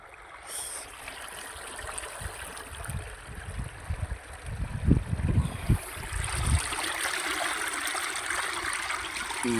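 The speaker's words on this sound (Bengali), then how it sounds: "অবশেষে এই ডিপ টিউবওয়েলটি পানির মুখ দেখলো।" Water gushes up from a deep tubewell, a steady rushing, splashing flow that holds throughout, with heavier low surges near the middle; no voices.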